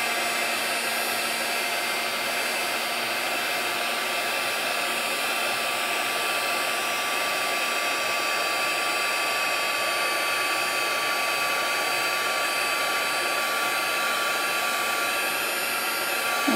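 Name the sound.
heat tool melting embossing powder on paper craft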